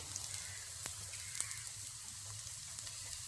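Chopped beans sauté in a pan with a steady, soft sizzle and crackle that runs throughout, with a few faint clicks of stirring in a home kitchen.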